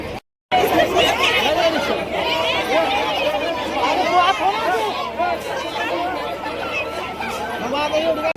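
Dense chatter of many passengers packed into a crowded MSRTC state transport bus, overlapping voices and babble filling the space continuously at close range.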